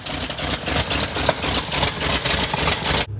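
A no-prep race car fitted with a rear-mounted radiator idles steadily and loudly up close, its engine churning with a rough, pulsing low rumble throughout and no talk over it.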